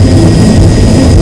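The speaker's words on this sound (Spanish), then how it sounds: "Finalmente, un helicóptero aterriza en la cubierta del barco en marcha." Helicopter setting down on the deck of a moving ship at sea, a loud, continuous engine and rotor roar with heavy low rumble and no voices.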